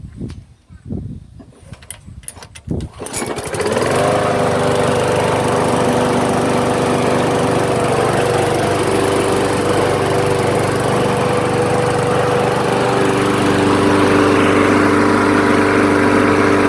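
A restored free Craftsman walk-behind lawn mower engine cold-starting after three primes, with a few pull-cord tugs, then catching into a steady, loud, continuous running drone that holds close and even.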